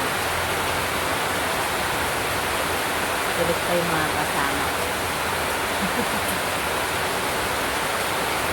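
Steady heavy rain falls throughout a typhoon, a constant dense hiss, while a person speaks briefly and quietly over it.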